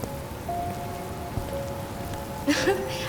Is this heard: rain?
yes